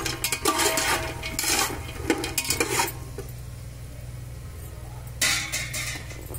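Peanuts fried and stirred in a pan make close, rattling scrapes in dense bursts that fade to a quieter sizzle, then return in one more short flurry.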